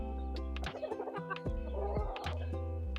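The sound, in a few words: bantam rooster and chickens clucking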